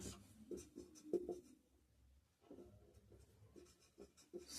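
A pen scratches across paper in short strokes and pauses, very quiet and close, with no voices over it.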